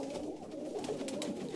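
Pigeons coo in a pigeon loft, a close, continuous run of soft throaty murmuring calls with no voices.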